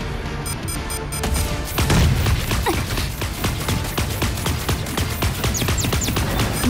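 Rapid gunfire and explosive booms in the mecha battle game Super Mecha Champions, with repeated sharp shots in dense bursts over a rumbling game soundscape.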